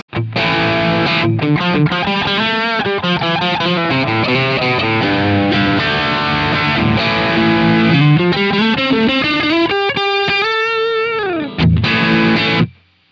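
Electric guitar played through a JCM 800-style distorted amp capture, loud saturated chords and sliding riffs ringing continuously, ending with a sustained note and a final strum before a cut to silence.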